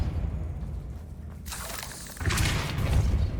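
A Depulso spell fires in Hogwarts Legacy, a sudden whooshing burst that swells into a loud rumbling boom and lingers to the end after a quieter stretch.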